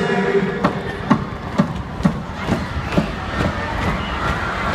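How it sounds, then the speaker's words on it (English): At a concert in San Diego, a large crowd stamps together in a steady rhythm of dull thuds, roughly two a second, under a constant roar of crowd noise. "I want everybody to stamp their feet to the same beat."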